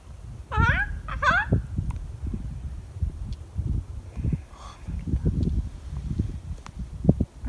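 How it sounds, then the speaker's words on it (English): Sandhill cranes give a couple of rolling, trumpeting calls early on, fairly distant over wind and rustling outdoors in the Northwest Territories, then the calls fade and only faint background noise remains. "Let's see if they make noise again, but we've got Sandhill cranes."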